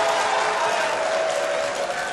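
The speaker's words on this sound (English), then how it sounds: "Audience, please, the debate is still on. You're not allowed to cheer or jeer." A debate audience in a hall applauds and cheers, a steady wash of clapping and crowd noise throughout.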